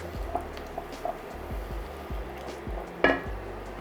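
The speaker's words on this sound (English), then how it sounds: "Stir that together." Sour cream being stirred into a tuna pasta sauce in a pan, giving soft repeated scraping and gentle sizzling with one sharper clink near the end, fairly quiet and with no talking.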